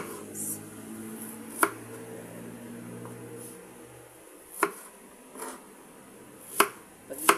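An onion is chopped with a knife on a board in a home kitchen, giving a few sharp, isolated knocks spaced a couple of seconds apart over a low room hum.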